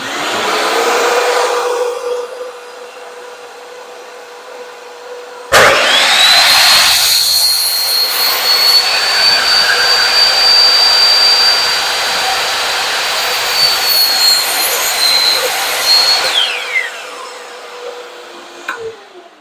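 A power saw cuts notches into a wooden board, loud and close, running as a steady high whine through the wood for about ten seconds and then winding down, with a quieter run before it.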